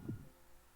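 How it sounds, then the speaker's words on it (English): A single low, muffled heartbeat thump, faint and brief, fading into a quiet hum. "Why am I hearing a heartbeat?"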